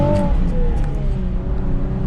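A 2020 Nissan 370Z Nismo engine revs and then eases off, a loud, close rasp with falling pitch that settles into a steady idle-like drone, with no talking.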